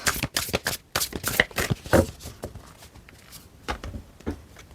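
A deck of oracle cards riffled and shuffled by hand at close range, a quick run of crisp slapping bursts that slow into scattered flicks as some cards drop.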